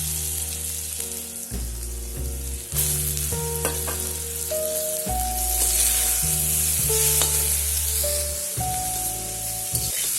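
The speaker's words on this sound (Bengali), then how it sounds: "এবার শাকগুলো দিয়ে দেবো।" Radish greens frying in oil in a wok, with a steady sizzle playing under loud background music with shifting sustained notes throughout.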